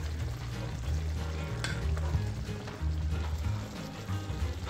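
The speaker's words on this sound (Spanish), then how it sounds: "agregar de nuevo el pollo a la salsa. Lo dejamos reducir a fuego lento, fuego bajo." Chicken in a garlic, lemon and honey sauce reducing over low heat, giving a steady close sizzle and bubbling frying sound with faint stirring, no talk.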